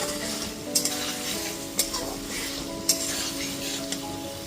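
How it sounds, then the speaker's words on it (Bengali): Potatoes and pointed gourd sizzle steadily in a pan with spices over a low-to-medium gas flame, a spoon stirring and scraping against the pan with a few sharp clinks spaced about a second apart. "গ্যাসের ফ্লেমটা লো টু মিডিয়ামে করে মশলার সাথে আলু পটলটা খুব ভালো মতো কষিয়ে নিয়েছি।"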